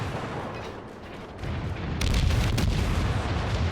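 A warship in the video game World of Warships fires high-explosive shells during a naval battle: deep rumbling booms stack up and then swell into a louder, sustained barrage of heavy blasts.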